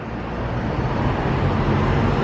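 A loud Ford Mustang drives by on a town street, producing a steady, deep, rumbling engine roar that fills the whole stretch without fading, with no voices over it.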